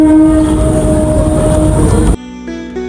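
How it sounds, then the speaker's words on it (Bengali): A train passes near the Ganga river in Kolkata, sounding a loud, sustained horn over rumbling wheels close by, which cuts off abruptly and leaves a fainter tonal hum. "আর ট্রেনের হুইসেল"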